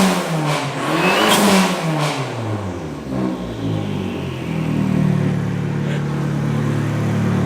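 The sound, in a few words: car engine revving with turbo blow-off valve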